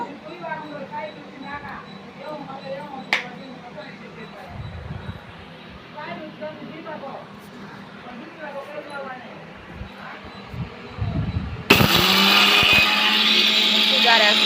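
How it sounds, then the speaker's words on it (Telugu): Someone talks quietly, then a mixer grinder abruptly starts grinding fenugreek seeds into powder, a loud steady whirring roar that continues to the end. "మిక్సీ జార్ అనేది వేసుకోవాలి మనం ఇప్పుడు"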